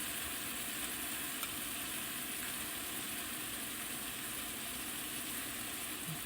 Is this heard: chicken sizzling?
yes